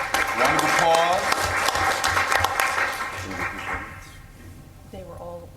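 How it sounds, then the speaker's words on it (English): A room of workshop participants applauds for about four seconds, the dense clapping loud at first and thinning out, with speech rising over it toward the end. "Round of applause."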